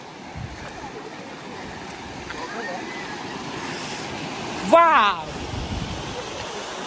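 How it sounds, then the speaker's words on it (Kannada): Water from Chigule Falls at Kanakumbi, in Khanapur, Belagavi, flows as a steady broadband rush throughout, while someone speaks over it and a short louder burst of voice rises near the end. "ಎಲ್ಲ ನೀರು ಹರಿದ ಹಿಂಗೆ ಹೋಗತಿ"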